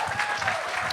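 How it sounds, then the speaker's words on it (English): Audience applause at a startup demo day, a brief burst of dense clapping from a crowd. "clap it up for Maria"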